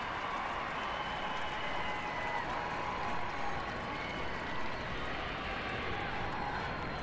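A stadium crowd at a USWNT versus China women's soccer match applauds as Megan Rapinoe is substituted off, giving a steady, even wash of distant clapping and crowd noise that runs throughout without breaks.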